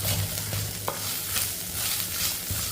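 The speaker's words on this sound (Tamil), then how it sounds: "2 பச்சை மிளகாய் நறுக்கி போட்டுக்கிடுவோம். இதை நல்லா வதக்கி விட்டுருவோம்." Curry leaves and green chillies sauté in oil in a pan, a close, steady sizzle with soft scraping stirs of a spatula throughout.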